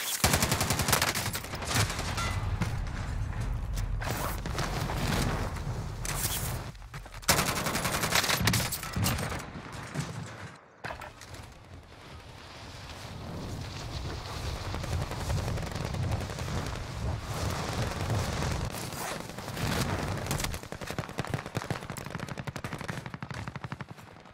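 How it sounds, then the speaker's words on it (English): Sustained heavy video game gunfire, dense overlapping rifle and machine-gun bursts from players shooting at each other in a Warzone-style battle royale, loud and near-continuous with only a brief lull. "Oh, they're teammates shooting at each other."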